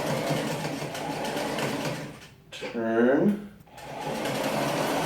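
A sewing machine stitches polo shirt sleeves, running in a steady mechanical whir with a brief pause and a rising whine in the middle, while a voice speaks briefly over it.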